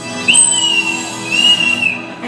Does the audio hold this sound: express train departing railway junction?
no